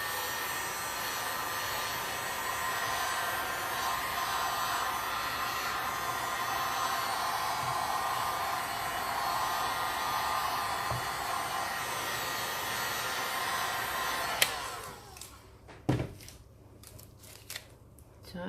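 Heat gun blowing over resin art with color-changing powder pigments, a steady loud hissing whoosh that runs continuously, then cuts off abruptly, followed by faint handling clicks.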